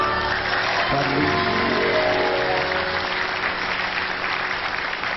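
Sustained audience applause for a singer after his performance at a televised Islamic singing competition, a steady dense clapping wash filling the hall throughout, loud and close with a faint tonal hum beneath.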